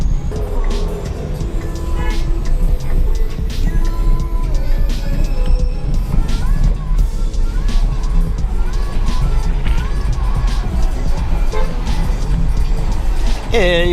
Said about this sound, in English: You should hear the hustle and bustle of New York with my window open